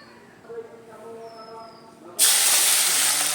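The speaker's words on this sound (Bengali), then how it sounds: "তেলটা প্রচুর গরম হয়ে গেছিলো, পেঁয়াজটা দিয়ে দিলাম" Onions tipped into very hot oil in a wok for a fish curry set off a sudden loud, steady sizzling hiss that starts partway through, after a quieter stretch of faint kitchen background.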